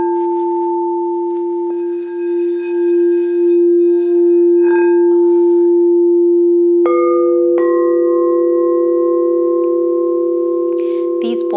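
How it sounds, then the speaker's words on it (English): Healing bowls tuned to pure tones ring with long, smooth sustained notes that overlap; a second bowl is struck partway through and its bright tone layers over the first, all close and clear. "These bowls are more pure tones, whereas the Tibetan bowls are more harmonious, so they have different sounds in them."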